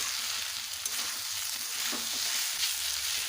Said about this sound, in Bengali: এবারে দিয়ে দেবো ভেজে রাখা আলু আবার কিছু আবারও কিছুক্ষণের জন্য আমি কষবো আলুগুলোকে দিয়ে